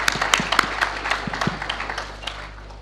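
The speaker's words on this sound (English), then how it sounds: "please give another big round of applause to Professor Kroto" Scattered applause for Professor Sir Harold Kroto at a university lecture, a sparse spread of individual claps tapering off over a few seconds, fairly close and moderately loud.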